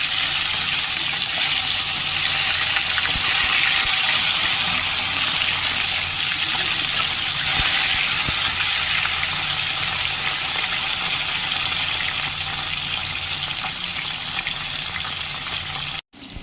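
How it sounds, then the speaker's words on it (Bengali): Lata fish sizzling as it fries in hot oil in a wok in a village kitchen: a loud, steady crackling hiss that runs without a break and stops abruptly at the very end. "মাছগুলো ভালোভাবে লাল করে ভেজে নেব।"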